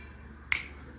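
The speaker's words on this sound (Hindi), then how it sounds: "अब चुटकी मारूंगा और ये सारा सेट हो जाएगा" A single sharp finger snap, crisp and close, standing alone against a quiet background.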